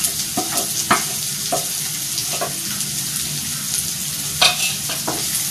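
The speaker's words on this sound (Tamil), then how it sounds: "நல்லா வதக்கிக்கோங்க." Onions with green chillies sauté in a pan with a steady close sizzle, while occasional scraping strokes of a stirring spoon cut through.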